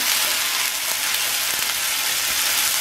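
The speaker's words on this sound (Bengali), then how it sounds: "খুব ভালো করে কষিয়ে নেব" Fish masala for a restaurant-style fish tikka sautéing in a pan over medium heat, a steady close sizzle with faint stirring scrapes throughout and no talk.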